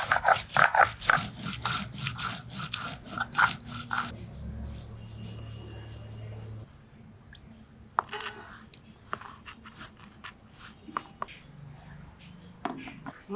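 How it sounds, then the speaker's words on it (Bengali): Green chillies are ground on a grinding stone, giving rapid rhythmic scraping strokes for about four seconds, followed by quieter scattered rubbing and knocks, with low voices speaking in the background. "লঙ্কাটুকু বেটেই মাংসটা মেখে নেব।"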